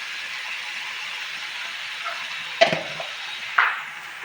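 New potatoes fry in a pan for a local chicken curry, giving a steady soft sizzle with two sharp stirring clacks of a utensil against the pan, close up, no talk.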